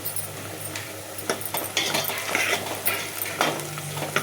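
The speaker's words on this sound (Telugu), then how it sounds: "సన్నగా చాప్ చేసుకున్నటువంటి వెల్లుల్లి వేసేసుకుంటున్నాను" Finely chopped garlic tossed into onions already frying in a pan, a steady close sizzle with scraping and stirring clinks from a spoon against the metal, no voices.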